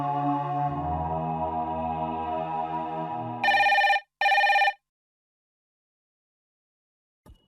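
A telephone at a clinic rings two loud electronic bursts after a fading musical chord, then silence with a faint click at the end.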